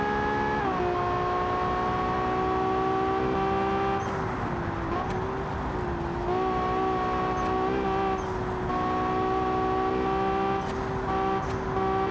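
A rear-engine super SUV driven in a racing game, its engine holding a loud, steady tonal drone that shifts pitch with gear changes and throttle, with brief tyre or gear sounds and no talk.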